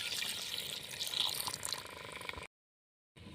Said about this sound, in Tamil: ஒரு 1/2 டம்ளர் தண்ணி ஊற்றிக்கலாம்.